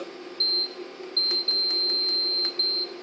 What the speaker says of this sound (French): je vais mettre ma minuterie